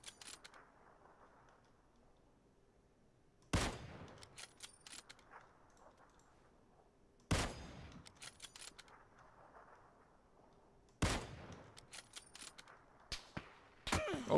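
Sharp, loud gunshots in a multiplayer shooter game, four separate bursts spaced a few seconds apart, each followed by scattered clattering impacts over a quiet background.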